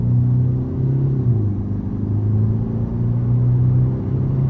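A Ford Focus 1.5 diesel Titanium with an eight-speed automatic in sport mode accelerates hard from a standstill toward 100 km/h, giving a loud, steady cabin drone with the engine pitch climbing and dipping at gear changes.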